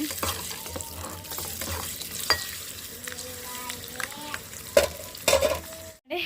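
Eggs frying in oil in a home kitchen pan, a steady low sizzle with scraping and stirring clatter throughout and a few sharper utensil knocks near the end, close and moderately loud.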